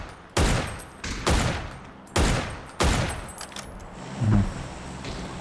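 Several bursts of rapid gunfire in the video game PUBG crack out in quick succession, loud and close, with short pauses between volleys and no talking.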